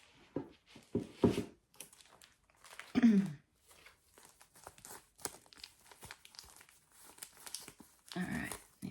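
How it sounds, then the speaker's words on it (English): A piece of paper is handled behind a cross-stitched piece, with soft crinkling and rustling bursts spread across the span, quiet and close, with brief speech in places. "I might put a piece of paper behind that."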